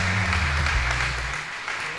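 Church congregation at a Sunday service clapping loudly for the Lord, a dense continuous wash of applause sustained throughout, with a low held musical tone underneath at the start.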